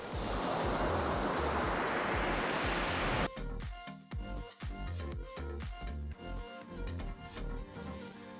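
Sea waves wash onto a beach in North Goa as a loud, rushing roar for about three seconds before cutting abruptly to a different, rhythmic sound.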